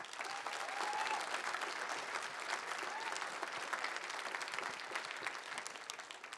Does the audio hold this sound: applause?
yes